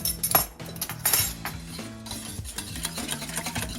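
A utensil whisks egg batter with a splash of vanilla for French toast, quick clinking strokes against the side of a bowl, close and busy, with brief pauses.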